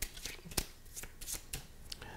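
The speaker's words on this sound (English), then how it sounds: "They will shuffle them up." A deck of cards printed with five symbols gets shuffled by hand, a quick series of crisp riffling and slapping bursts, close and fairly quiet with short pauses between.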